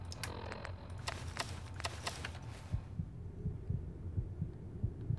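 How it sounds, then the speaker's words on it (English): A steady thumping heartbeat in Fallout 4 pulses low and regular after a burst of brighter game sounds, continuing alone at a moderate, even rhythm. "Why's my heart beating now?"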